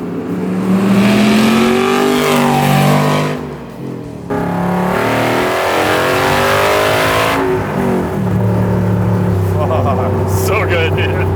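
A Superformance MkIII Cobra R with a 5.2 Aluminator engine making 580 hp revs loudly up close, its deep throttle blips rising and falling with a brief dip in between, while people talk under it.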